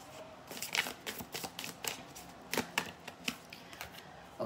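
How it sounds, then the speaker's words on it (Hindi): Tarot cards being shuffled during a weekly horoscope reading, a run of soft, crisp riffles and flicks in an irregular rhythm, close and fairly quiet with no talk over them. "पहले हम टैरो से पूछेंगे, देन मैं आपके लिए मनोलॉजी से भी कार्ड पुल करूंगी"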